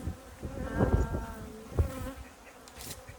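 Honey bees buzzing around an open top bar hive during a hive check, a dense, wavering drone that swells and fades near the microphone with no one talking.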